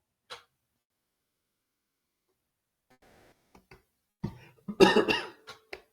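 A person coughs once, sharply and close up, after a faint early throat noise and a few small clicks, in an otherwise quiet room.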